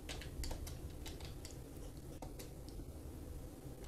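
Quiet clicking keystrokes on a computer keyboard come in quick irregular runs over a steady background hum, with no one speaking.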